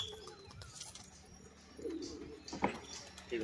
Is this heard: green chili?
no